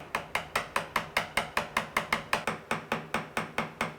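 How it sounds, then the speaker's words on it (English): A mallet strikes a chisel cutting a half-blind dovetail in wood, giving a steady run of about twenty sharp, evenly spaced knocks, close and clear, with no voices. "I'm looking along the back of the chisel to ensure it's going down square."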